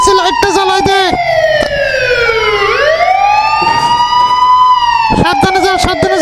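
An emergency siren on a bus in a Bangladesh bus simulator game wails loud and close, falling and rising in long sweeps. Short bursts of quicker yelp tones come at the start and end, with an engine droning underneath.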